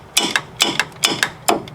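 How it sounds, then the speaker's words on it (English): A socket ratchet on an extension works a bolt on the alternator of a 2002 Mitsubishi Lancer, giving crisp, loud, close mechanical clicks in evenly spaced pairs, four swings in a row. "ratchet, and extension to remove that"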